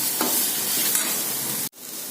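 Green beans poriyal with coconut, cumin, turmeric and chilli powder is stirred in a hot pan, with a close, steady sizzle and scraping that stops abruptly near the end.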